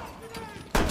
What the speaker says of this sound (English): Ooh, flashbang.